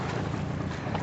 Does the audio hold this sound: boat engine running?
yes